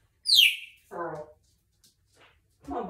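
A pet bird chirps indoors during floor time in a home while its bird room is cleaned, giving a sharp descending whistle followed by a short burbling call and another chirp, close and clear with no talk over it.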